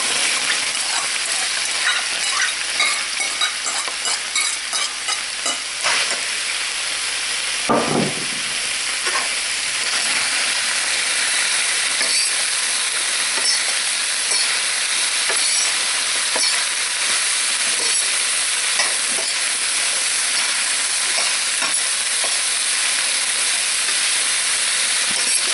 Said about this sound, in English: It's almost like you're frying the vegetables.